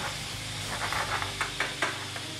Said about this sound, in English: Now we add a little bit of corn.